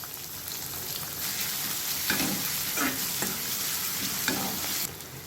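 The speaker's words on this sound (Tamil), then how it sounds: "வெங்காயம் இப்போது நல்லா வதங்கினதும்" Finely chopped onions with a little kasuri methi sauté in hot oil for street-style masala puri, giving a steady close sizzle broken by several rhythmic scraping strokes of a spatula across the pan.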